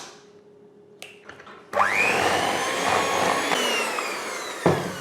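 An electric mixer whirs into life after a few clicks and knocks, beating eggs one at a time into pound cake batter with a steady, loud, close-up hum that shifts slightly in pitch as it runs.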